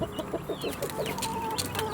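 A hen clucking in a quick series of soft, low clucks, with faint chirps and farmyard noise around it.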